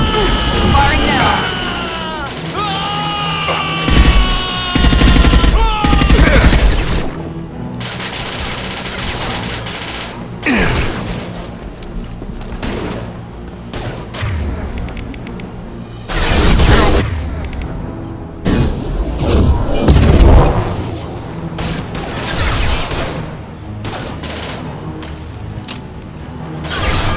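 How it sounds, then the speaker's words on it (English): Weapons fire and explosions in Mass Effect 2 during Jacob's loyalty mission: loud, irregular bursts of gunfire and heavy booms broken by short lulls, with voices talking between them. "Firing now."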